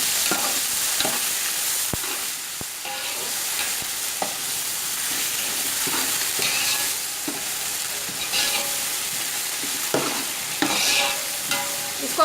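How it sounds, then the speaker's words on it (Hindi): Onions with garlic-ginger paste frying in hot oil for a chicken tikka biryani, a steady close sizzle broken by repeated stirring clicks and scrapes in the pan, with no voices. "इसको आपने 10 से 15 सेकंड लहसुन अदरक के पेस्ट को प्याज के साथ ऑयल में फ्राई कर लेंगे।"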